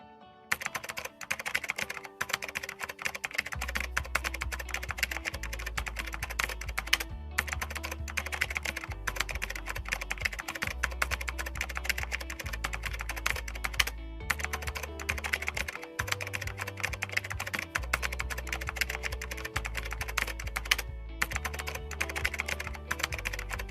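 Typing on a computer keyboard while writing a C# script for Unity, a steady close-up clatter of keystrokes in bursts separated by brief pauses, alone without talk.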